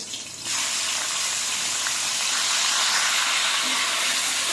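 Chopped onions hitting hot oil in a pan with potatoes for a Bengali chicken curry, setting off a sudden loud, steady hissing sizzle that starts after a brief quiet moment and carries on unbroken to the end.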